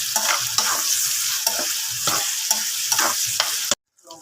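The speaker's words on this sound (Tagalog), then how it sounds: "Ginisa na natin yung ating bagoong alamang. Ayan. Halo-haloin lang natin siya." Tomatoes and fermented shrimp paste (bagoong alamang) sizzle in a pan while a utensil stirs them in rhythmic scraping strokes, the frying hiss loud and close before cutting off abruptly.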